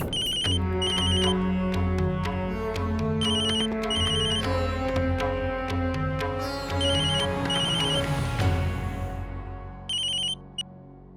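A phone ringtone plays repeatedly in a domestic drama scene, a melodic electronic tone sounding in regular bursts over a sustained musical background score, fairly loud and steady throughout, with no talking.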